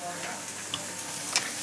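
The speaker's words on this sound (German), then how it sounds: "Und nebenan brutzelt das Fleisch." Meat sizzles on a grill in a burger diner, giving a steady, close hiss of frying with a couple of brief sharp clicks.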